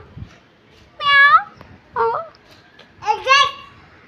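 A voice gives three drawn-out, high meows imitating a cat, each separated by a brief pause.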